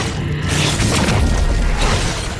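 A cannon blast in the video game Honkai Impact 3rd, during an EVA crossover event, comes through as a loud, dense, booming roar that stays heavy and sustained for the whole stretch.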